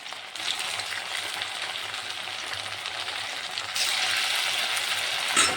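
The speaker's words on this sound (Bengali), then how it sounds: "তেল গরম হয়ে গেছে, এখন আমি দিয়ে দিচ্ছি।" Potato pieces sizzle steadily in hot oil, a continuous dense frying hiss that grows louder about two-thirds of the way through, with no voices over it.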